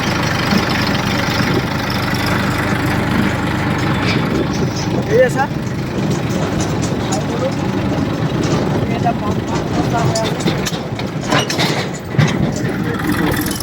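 A tractor engine runs steadily close by with a continuous low rumble and no clear changes in pace, while people talk over it throughout.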